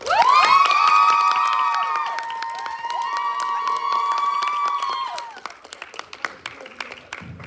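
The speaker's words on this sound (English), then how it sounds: "Now let's give one more time of applause." Audience at a university pantomime competition applauding and cheering loudly, with shrill whoops and shouts over steady clapping that gradually thins out toward the end.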